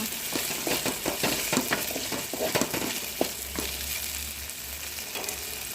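Okra fried in a pan with a steady sizzle underneath, stirred with repeated scraping strokes that come in an uneven rhythm at close range, and no talking.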